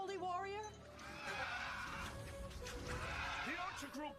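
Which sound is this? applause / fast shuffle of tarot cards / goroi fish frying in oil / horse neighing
horse neighing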